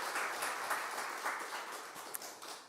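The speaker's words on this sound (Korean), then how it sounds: "큰 박수로." A congregation claps at a Sunday afternoon church service after a scholarship presentation: a fairly faint, steady wash of applause lasting a few seconds with no clear talk over it.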